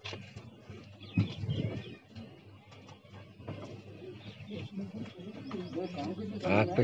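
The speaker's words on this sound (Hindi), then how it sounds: "बहुत बड़े वजूद का कबूतर है ये।" Large male pigeon from a Bhopal loft, with its mate nearby, cooing softly in low rolling bursts while someone talks over it at close range.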